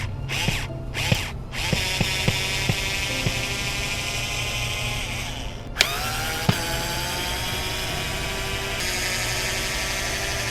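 A power drill backs screws out of the wooden top of a bee box outdoors, several short whirring bursts with clicking ratchet sounds, close and fairly quiet, followed by a longer sustained whine.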